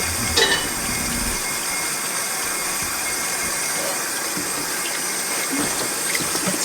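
Water pouring from a pot into a sink, a steady rushing gush with small clanks, continuous and fairly close.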